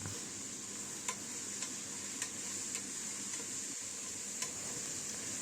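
Tomatoes and mint sauté in a pan for chicken biryani gravy, a soft continuous sizzle with a few faint, evenly spaced clicks of a spoon stirring against the pan, quiet and close.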